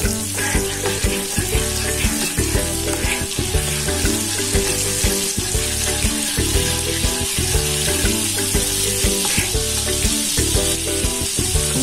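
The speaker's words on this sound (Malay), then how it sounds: "Pastikan butter dia hancur, betul-betul hancur dan panas. Kacau butter ni." Butter, three scoops, melting and sizzling hard in a hot pan for mushroom soup, a loud continuous crackling fry with rhythmic pulses through it and no voices.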